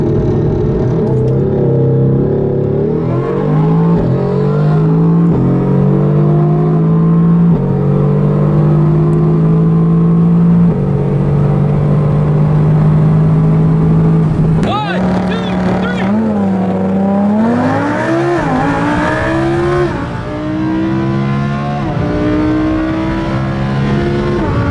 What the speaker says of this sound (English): we're back with Brooks from Drag Times in the Huracan, and we're going up against the Mercedes AMG GT-R. From a dig